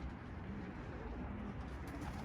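Pigeons, white, nohudi and blue, fly directly overhead during a morning flight above an office, with soft cooing faintly present within a steady, dense wash of background noise.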